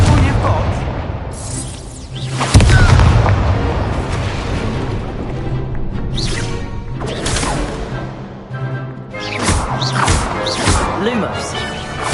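A Confringo blasting spell in Hogwarts Legacy goes off with a loud, sudden explosive crash, followed by a dense, busy mix of combat noise and effects, with voices calling out amid the clamour.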